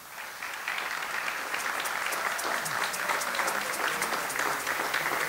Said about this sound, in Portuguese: Mafalda de Porto Martins, a nossa Sarazinho, a salva de palmas.